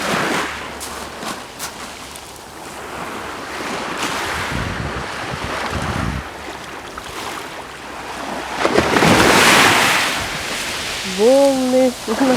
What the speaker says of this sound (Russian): Волны такие небольшие.